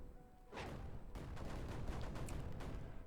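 Mortars firing in the video game Creeper World 4, a dense rumbling barrage of overlapping bursts that starts after a brief lull and keeps going steadily, loud and busy throughout.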